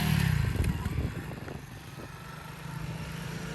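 Honda CRF300L Rally motorcycle engine running close by, a strong low rumble that eases briefly as the rider shifts up a gear, then settles back into a steady drone.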